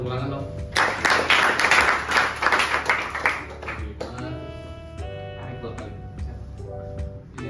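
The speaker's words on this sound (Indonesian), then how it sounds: "Boleh tepuk tangan dong." An audience in a teaching session at an immigration polytechnic claps for a few seconds, with dense, lively applause that fades out before a voice resumes speaking.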